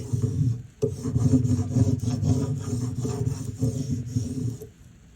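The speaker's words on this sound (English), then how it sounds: "Use your scraper tool to make sure that your vinyl adheres to the transfer sheet." A scraper tool is rubbed firmly over vinyl to press it onto a transfer sheet for a Cricut farmhouse sign, making a steady close-up rasping scrape in quick repeated strokes with one brief pause, no voices.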